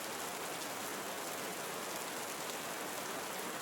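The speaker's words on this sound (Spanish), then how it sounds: "Te invitamos a experimentar el sonido de la lluvia como método para mitigar el tinnitus" Steady rain falls in a Costa Rican forest, a dense, even wash of drops with no pauses, close and fairly loud throughout, with no voices.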